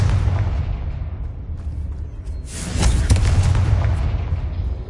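A Confringo blasting spell explodes in Hogwarts Legacy, producing a loud, sustained, rumbling boom that swells again midway and fills the whole stretch with dense low roar and crackle.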